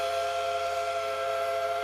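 Dollywood's Christmas-decorated train sounds a steady whistle-like horn at night, one sustained, loud, harmonic blast from start to finish.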